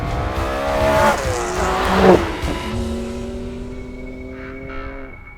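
A 2021 BMW M3 drives hard with tires squealing, its engine note rising and falling through gear changes, loud and close, with a sharp skid peak around the middle before settling into a steady high-pitched whine.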